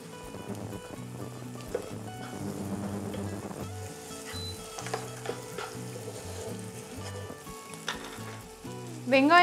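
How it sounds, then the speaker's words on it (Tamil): Chopped onions dropped into hot oil sizzle and fry steadily, with stirring clatter throughout and a sharper scrape near the end; no voices. "அந்த வெங்காயத்தை வந்து இந்த எண்ணெயிலே போட்டுக்கலாம்"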